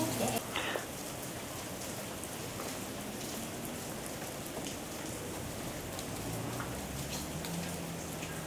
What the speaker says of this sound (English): It started raining when we got to the station for the return trip.